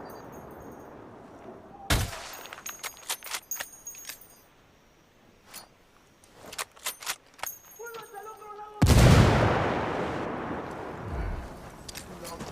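Artillery fire for effect rains down in Ghost Recon Wildlands: sharp blasts and scattered cracks of gunfire lead into a heavy, roaring explosion that rumbles and decays.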